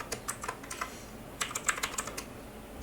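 Soft, fairly quiet typing on a computer keyboard as code is entered, a few scattered key taps and then a faster run of keystrokes, close up with no talking.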